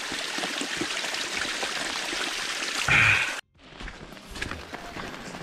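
Fresh spring water flowing steadily in the woods at Woss Lookout, a continuous close trickling and rushing that swells briefly, cuts out for a moment, then resumes.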